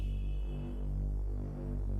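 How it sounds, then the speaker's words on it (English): A thick Nimble Synth Bass patch from the Logic Alchemy plugin holds a deep, sustained low tone with a slow throbbing pulse, steady and alone. "So I have used Nimble Synth Bass from Alchemy."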